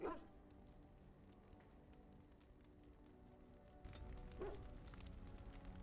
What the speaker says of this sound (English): Dex, what you barking about, boy?